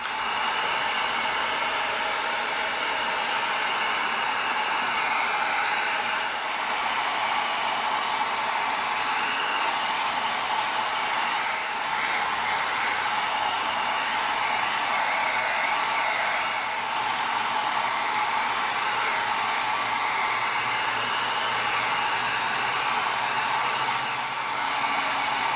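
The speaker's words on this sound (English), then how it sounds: "now we're going to come in with our heat gun" A heat gun blowing hot air over EVA foam for a prop knife: a steady, loud broadband rush like a hair dryer that runs without a break, with no talking.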